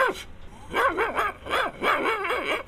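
A man imitates the barking of a Pathan dog with his voice, giving several loud, close, rhythmic bark-like yelps in quick bursts, with no other sounds around them.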